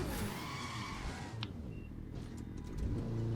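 Four-cylinder motorcycle engine in the racing video game The Crew 2, a steady high-revving whine with tire skid noise, sustained and loud throughout with no talk.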